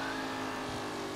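Race car engine held at full throttle in the video game Mafia, a brief, steady, moderately quiet droning whine with no break.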